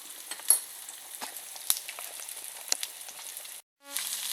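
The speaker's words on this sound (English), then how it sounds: "so these beef ribs is frying on up" Beef ribs fry in oil, sizzling and crackling steadily with scattered sharp pops, close by, cutting out for a moment near the end before resuming.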